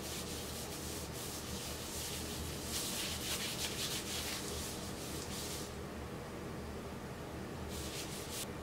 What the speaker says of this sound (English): let's rub it in